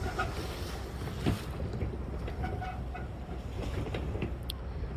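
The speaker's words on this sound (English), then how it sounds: "Just had some pretty violent waves come from a boat that passed by, bouncing around." Continuous rushing water and choppy boat-wake waves slosh and splash close by against North Pier in Portsmouth, New Hampshire, with wind buffeting the microphone throughout.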